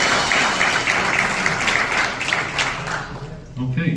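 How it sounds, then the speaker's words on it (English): An audience applauding WWII veterans at a Pearl Harbor Day gathering, a loud sustained burst of clapping with a murmur of voices mixed in, thinning out near the end as scattered claps and talk take over. "And let's give a round of applause."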